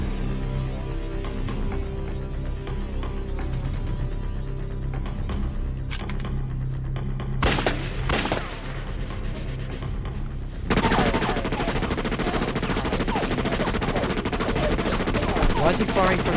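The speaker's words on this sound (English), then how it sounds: "Why is he firing from the hip? You want to conserve some bullets?" Rapid bursts of gunfire and sharp shots over a dense movie soundtrack with music and effects, growing louder and busier toward the end.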